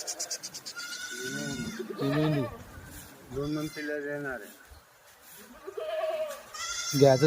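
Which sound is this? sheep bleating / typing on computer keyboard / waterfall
sheep bleating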